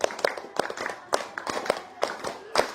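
Students in a classroom run through the 'tepuk 5' clapping pattern twice, a string of crisp, close claps in grouped bursts, with faint chatter underneath.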